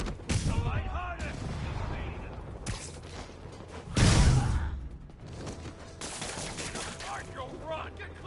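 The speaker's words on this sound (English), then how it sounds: "I'm getting reports of shots fired. I can confirm that." Gunshots in Marvel's Spider-Man: scattered cracks and clatter build to a loud, heavy burst midway, with voices talking around the shooting.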